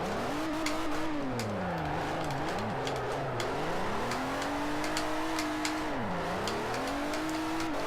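A Hyundai Genesis drifts around Tsukuba circuit in Forza Motorsport 4, its engine droning and rising and falling with revs while tires squeal and scrub in short bursts.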